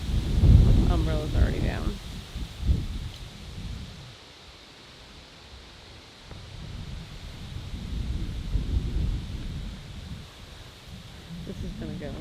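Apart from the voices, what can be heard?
Hurricane Ida storm with rain and wind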